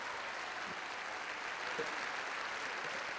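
Steady applause from an audience at the 2005 Kral music awards ceremony, even and sustained throughout with no break, a roomful of clapping hands at moderate distance.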